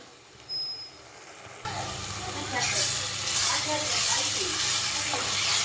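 Tomato puree dropped into a hot pan sets off a sudden loud sizzle that settles into a steady, close hiss of frying, with faint background sounds.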